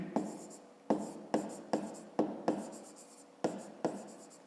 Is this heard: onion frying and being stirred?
no